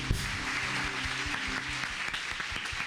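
A church congregation claps together, a dense, even wash of applause with steady rhythmic hand claps running through it, heard alone without speech.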